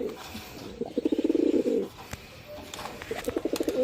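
Domestic pigeons kept at a house give a run of close, soft, throaty, rhythmic coos, then quieter cooing and faint rustles follow.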